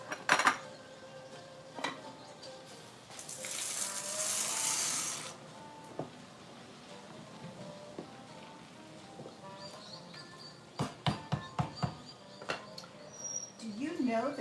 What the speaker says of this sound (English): we're putting our pasta in, and that's going to cook for 10 minutes